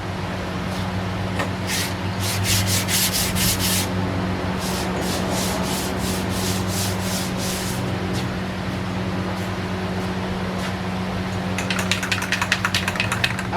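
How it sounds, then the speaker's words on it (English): Steady rubbing of sandpaper on primer on a 2009 Toyota Yaris body panel, with bursts of quick back-and-forth strokes over a constant low hum and no talking. "we'll go ahead and sand it down"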